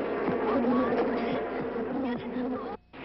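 A dense, droning buzz of a swarm of savage bees in a movie trailer fills the air, steady and close, dropping away abruptly just before the end.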